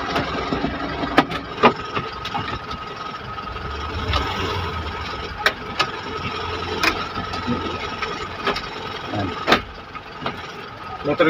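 A vehicle engine idles steadily at medium distance after a clutch repair, a low continuous hum broken by sharp metallic clicks and knocks, with someone talking intermittently over it.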